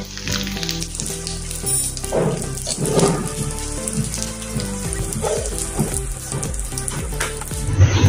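Cumin seeds and asafoetida fry in hot oil, a steady crackling sizzle under soft background music, with no talking.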